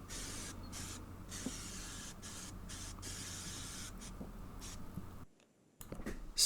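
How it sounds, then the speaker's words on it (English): Cleaner sprayed onto a foam air filter from a Yamaha WR250R, heard as a close, faint series of short aerosol hissing bursts that repeats through the clip, with a brief silence near the end. "Spray the cleaner on the entire foam air filter inside and out."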